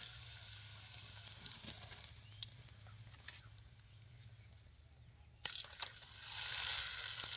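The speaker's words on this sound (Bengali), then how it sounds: "খুব সুন্দর কিন্তু ভাজা হচ্ছে পাঁপড়গুলো।" Rice papads fry in hot oil, a faint crackling sizzle with scattered pops that swells into a louder burst of frying near the end.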